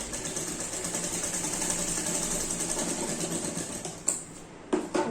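Sewing machine stitching the collar of a kurti: a steady, continuous mechanical whir running close and fairly loud for several seconds, then stopping, followed by a couple of brief knocks, with no talking.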